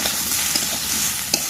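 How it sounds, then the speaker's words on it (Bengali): Taro pieces frying in oil in a pan in a village kitchen, with a continuous close sizzle and occasional scrapes and knocks of a spoon stirring them, no talk. "কচু কিন্তু বন্ধুরা হালকা হালকা ভাজা ভাজা হয়ে গেছে"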